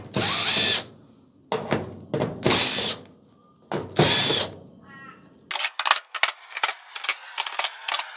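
A cordless drill driver fitted with a hex bit runs in several loud whirring bursts while backing screws out of an Electrolux clothes dryer, then a series of sharp ratcheting clicks and knocks follows.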